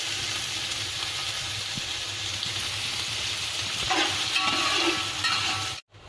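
Onion sizzling and frying in a little oil for chicken mandi, a steady close hiss with occasional stirring, cut off briefly near the end.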